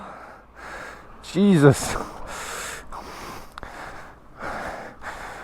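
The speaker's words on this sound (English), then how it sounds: "I need to pause for a while. I'm out of breath." Heavy, panting breaths with a sharp gasp from someone worn out after pushing a Yamaha LC135 motorbike, close up and mixed with brief speech.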